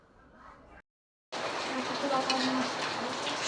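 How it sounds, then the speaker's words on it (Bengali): Potato and pointed gourd frying for breakfast in a village home kitchen during rain, a steady loud sizzle with a hissing texture that starts suddenly after a brief silence and holds to the end. "সকালে নাস্তার জন্য ভাজি হচ্ছে"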